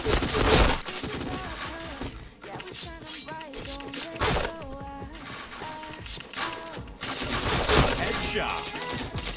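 Rapid shots crack out in a shooter video game, bursts recurring over nearly ten seconds on top of dense music and game noise, with a few sharp breaking hits mixed in.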